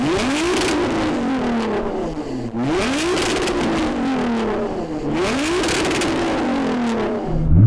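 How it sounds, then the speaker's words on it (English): A tuned 1000-horsepower Nissan GT-R engine revs hard three times in a row, each rev climbing sharply then dropping, loud and close with no talking. "So I'm going to rev up this tuned GT-R."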